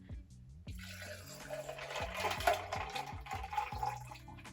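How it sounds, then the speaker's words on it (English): Bloody Mary cocktail rolled back and forth between metal shaking tins, a close liquid pour with a splashing stream and faint clinks, under a sustained musical background. "what rolling is you're just kind of pouring the cocktail into each shaking tin"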